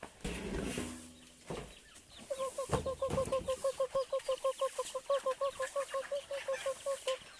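Chickens cluck in a rapid, steady rhythmic series, fairly close, after some brief scraping and knocking sounds at the start.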